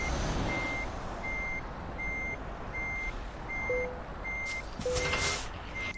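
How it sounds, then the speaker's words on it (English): A truck in Euro Truck Simulator 2 reverses toward a trailer, and its evenly spaced electronic reversing beeps repeat steadily over a constant engine rumble, with a short hiss of air near the end. "I'll have the perfect line to reverse into the trailer"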